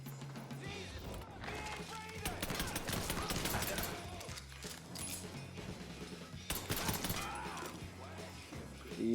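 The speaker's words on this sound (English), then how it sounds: "Shotgun." Shotgun fire from Mafia 3 comes as a clustered series of sharp blasts amid chaotic game action, with several loud bursts and busy mechanical clatter.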